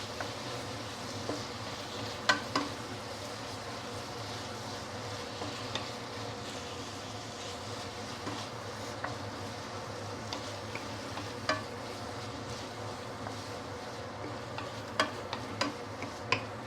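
Penang-style fried kuay teow noodles being stir-fried with sweetened dark soy sauce over raised heat, giving a steady low sizzle broken by scattered scraping clicks and clanks of the spatula against the pan, with no talk.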